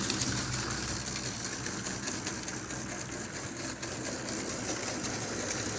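A model freight train rolls along an overhead layout in a man cave with handmade scenery, a steady whirring, rattling rumble that holds at an even level throughout with no talking.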